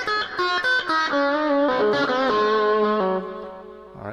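An electric guitar plays through a Boss Katana MK1 amp on a clean, low-gain setting with reverb and delay. Sustained single notes and chords ring out alone, trailing into a fading echo.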